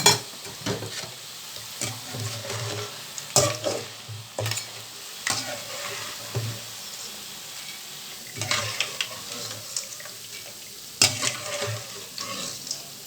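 Mixture batter fries in hot oil for a Tamil-style podi mixture snack, a steady close sizzle broken by repeated scraping stirs and metal ladle clinks, with no talking.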